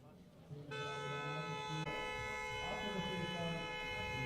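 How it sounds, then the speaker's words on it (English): A sustained tonal siren wails steadily at the Biķernieki racetrack in Riga, Latvia, during a Baltic Touring Car Championship race, with someone talking over it. "So you can hear the sirens"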